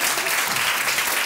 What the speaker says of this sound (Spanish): pues con este aplauso tan fuerte.